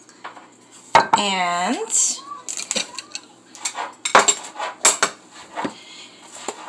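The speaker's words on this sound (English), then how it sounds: "we're going to start with some olive oil on a pan" A metal pan is handled on a kitchen stove while olive oil goes in for cauliflower rice, giving a few sharp clanks and scrapes, with a person talking between them.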